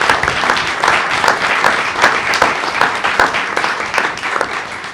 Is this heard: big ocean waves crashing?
no